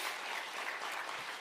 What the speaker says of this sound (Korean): 우리 찬양대 다시 한번 반사의 박수 한번 드리겠습니다